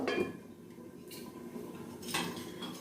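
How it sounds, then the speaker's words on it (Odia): A metal lid is set onto a pot of chicken masala, with a couple of short clinks and scrapes of metal on metal, fairly quiet, with a louder knock at the very end. "ଏବେ ଆଉ ଟୋପା ପାଣି ଦେଇ ଘୋଡ଼ଣୀ ଘୋଡ଼େଇ ଦିଅନ୍ତୁ"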